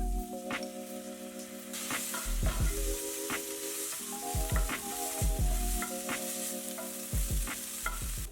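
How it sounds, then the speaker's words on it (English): Tempeh sautéing with garlic and a little sauce, a steady sizzle under repeated clinking scrapes of a utensil against the pan, close and fairly busy, a faint tonal hum underneath, no talk. "We're going to saute it with garlic and a small amount of our sauce"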